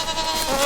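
Goats on a farm give a short, close, wavering bleat in one brief burst, with no talking over it.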